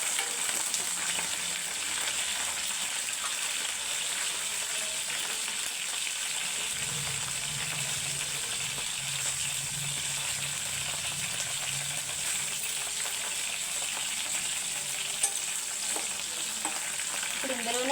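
Egg curry fries in a pan as it is stirred, giving a steady, continuous sizzle with soft scraping strokes throughout and no voices.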